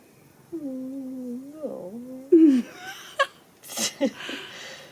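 A cat gives a wavering meow followed by short purring chirps and small vocal noises, close and clear in a quiet room, with brief human sounds near the end.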